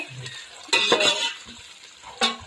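Bagara rice ingredients stirred and fried in a pan: close, clear scraping strokes of a spoon over a steady sizzle, with one loud stir near the start and another toward the end.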